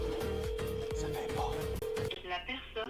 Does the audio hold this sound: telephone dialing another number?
yes